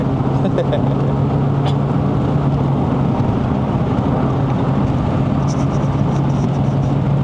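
A Perodua Kelisa fitted with a 110 PS K3-VE2 engine climbs the Genting mountain road in Malaysia, a steady engine drone and road rumble inside the cabin under ongoing conversation.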